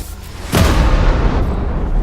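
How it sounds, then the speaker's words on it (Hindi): An asteroid slams into Earth at the moment of the dinosaur extinction, a loud sudden boom that swells into a sustained, heavy roaring rumble lasting about a second and a half. "गिरते ही विस्फोट से निकली ऊर्जा आज के 10 करोड़ परमाणु बम के बराबर थी"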